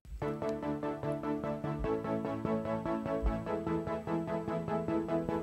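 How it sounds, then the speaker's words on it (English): A keyboard run through a note repeater MIDI effect in Logic plays rapid repeated notes in a steady stuttering pulse, chords retriggering evenly over a low bass, loud and continuous with no voices. "this note repeater effect that I have in Logic"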